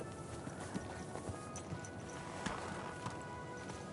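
Horse hooves clip-clopping in the medieval video game Kingdom Come Deliverance 2, a steady rhythm of hoofbeats at moderate distance over soft outdoor ambience.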